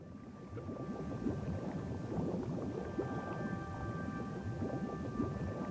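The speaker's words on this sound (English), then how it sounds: "We're just hearing the bubbling" Continuous low bubbling and gurgling of water in Morrowind, a steady dense churn that holds at even loudness throughout with a faint tonal hum above it and no voices.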